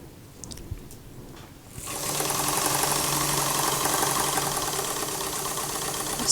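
A sewing machine stitches a lined princess-seamed dress at about a 5/8 allowance. It starts after a quiet moment and then hums and whirs steadily and close for several seconds.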